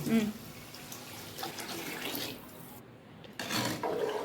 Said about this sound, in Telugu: ఇందులో వాటర్ వేసుకోవాలి